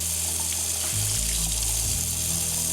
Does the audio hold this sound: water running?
yes